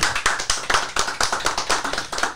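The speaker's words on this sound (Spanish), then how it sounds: "Por favor, aplauso para Nicky Fay." Close, fairly loud rhythmic clapping for Nicky Fay on a Spanish-language talk show, quick repeated claps from a few people in a steady pattern, with no talking.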